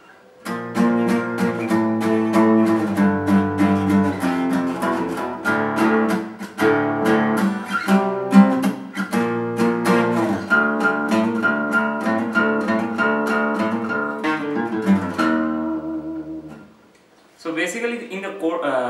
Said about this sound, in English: so from chorus to the main riff sounds like this.